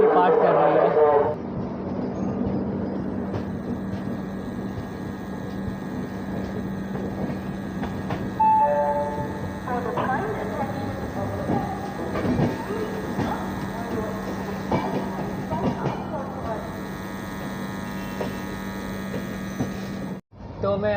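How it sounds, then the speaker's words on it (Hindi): Amritsar Howrah Mail, train 13006, pulling out of Bardhaman Junction, heard from inside a coach: a steady rumbling hum with rhythmic clacks from the wheels over rail joints, and voices talking over it throughout. "हम लोग की ट्रेन जो है बर्धमान जंक्शन से डिपार्ट कर रही है"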